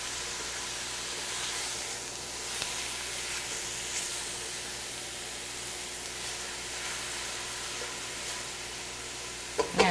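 Chili with tomatoes and beans cooks down in a pot, a soft continuous sizzle and simmer with faint stirring scrapes throughout, quiet and unaccompanied by voices.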